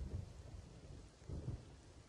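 A low rumble of thunder rolls under steady rain noise in Roblox Camping 2, swelling twice without any voices.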